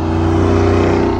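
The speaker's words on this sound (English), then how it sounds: "if you floor it, even with the exhaust closed, it opens. So then you make all the noise." A Jeep Wrangler SRT 392 V8 at full throttle with its exhaust valves open gives a loud, steady, deep engine roar that fills the whole short burst.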